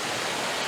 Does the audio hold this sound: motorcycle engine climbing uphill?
no